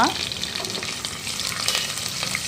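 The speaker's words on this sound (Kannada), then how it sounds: "ಇದೆಲ್ಲ ಫ್ರೈ ಮಾಡ್ಕೊಳ್ಳೋಣ ಇವಾಗ ಬ್ರೌನ್ ಕಲರ್ ಬರುವವರೆಗೂ" Green chillies, curry leaves and chana dal frying in a pan make a bright, steady sizzle and crackle up close, with occasional stirring scrapes and no voice.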